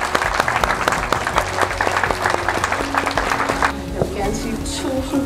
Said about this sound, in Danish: Skal vi ikke lige klappe igen?